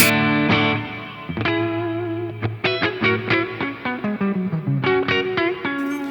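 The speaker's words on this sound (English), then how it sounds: "This will kind of be my amp, my drive amp sound." Electric guitar through a Joyo Ultimate Drive overdrive pedal with a gritty tone: a sustained chord, then a series of rhythmic picked notes and chords ringing with distortion.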